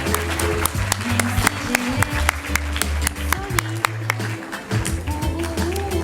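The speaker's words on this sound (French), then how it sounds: "Donc on va les applaudir même s'ils ne sont pas là" Scattered applause from a small audience at a Francophonie contest, with claps rising as sharp, separate strikes over a steady low hum and background murmur.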